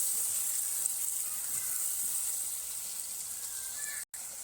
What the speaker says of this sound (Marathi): याच्यामध्ये आपण मॅरिनेट केलेली कोलंबी घालून घेऊ कोलंबी मिक्स करून घेऊ